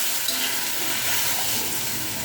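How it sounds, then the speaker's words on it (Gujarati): Hot water is poured into a pan of cooked suran (elephant yam), a continuous hissing, sizzling rush of liquid, loud and close, with no talking. "ગરમ પાણી નાખી દઈશું."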